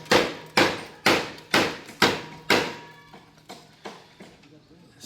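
Coco lumber struck hard against the side of concrete pergola formwork, a series of about ten sharp wooden knocks at a steady beat, loud at first and then growing fainter.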